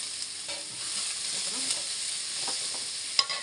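Cabbage, carrot and beans stir-fried in a hot pan, giving a steady close sizzle with scraping stirs and a sharp clatter near the end.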